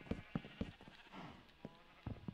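Sheep bleating in Minecraft, several short blocky calls at an irregular rhythm, fairly close and clear with no talking over them.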